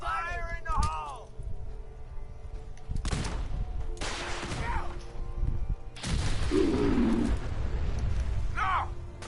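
Gunfire and blasts from a grenade going off in Fallout 4, heard as several loud broadband bursts and crashes through a noisy battle, with voices talking and shouting over the mix.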